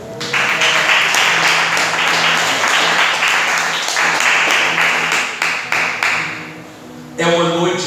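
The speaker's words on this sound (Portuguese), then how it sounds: "desocupa as tuas mãos e aplauda o Rei da Glória" A church congregation at a revival service applauds, rhythmic group clapping loud and close, layered with music and voices, before the clapping thins and a brief change in sound near the end.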